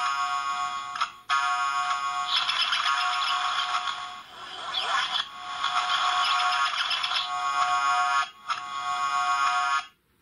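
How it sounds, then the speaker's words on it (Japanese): A Kamen Rider Ghost Bat Clock gadget toy plays its trigger-button effect, a bright electronic chiming and ringing passage that blends clock ticking with synthetic bat-like flutter, loud and close, broken by two short pauses before fading out. "時計とコウモリの音がかなりミックスされたような音声となってます"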